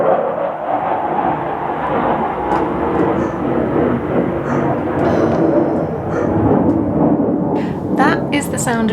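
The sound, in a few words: jets flying overhead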